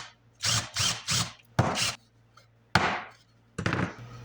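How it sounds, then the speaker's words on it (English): A power drill bores a hole into a wooden 2x4, heard as several short, close whirring bursts separated by quiet pauses, each burst starting sharply and trailing off. "Drill a hole in the middle and drop her in."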